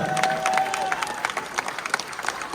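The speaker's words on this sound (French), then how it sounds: "on peut applaudir une nouvelle fois l'équipe" An audience applauds the team at the RoboCup 2023 Humanoid League KidSize final, a short burst of scattered hand clapping that thins out after a couple of seconds.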